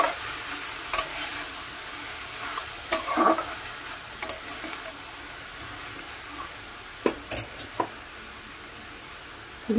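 Water spinach (kolmi shak) stirred in a pan as it fries, a low steady sizzle broken by several sharp scraping clicks of the spatula spaced across the clip, with no talking.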